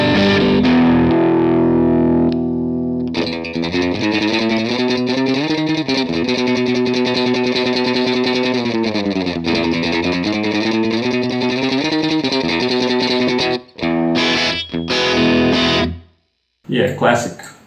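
Electric guitar plays through a Line 6 Helix Vox amp model with top boost, 30-watt character. Loud, chorus-tinged chords and shifting notes ring thick and close, then break into short stabs and a brief silence near the end.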